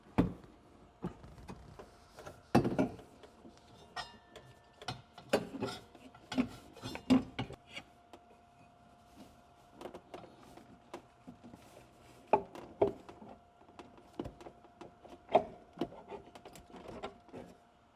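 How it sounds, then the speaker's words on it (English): Drive clutch going onto a Yamaha golf cart with an FBT clutch kit, heard as scattered metallic clunks, clicks and taps of parts being handled and fitted, close and fairly loud, with quiet gaps between knocks and no talk. "After your belts are installed, we can install the drive clutch."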